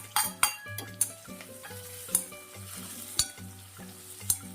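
Large onions frying in a pan toward golden brown for a Punjabi-style paneer makhani gravy, a steady sizzle punctuated by regular spoon scrapes and clinks against the pan, close and without speech.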